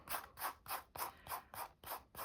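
A still slightly wet, dried craft piece being flaked off, giving about eight evenly spaced crisp scraping crackles close up, with no talk.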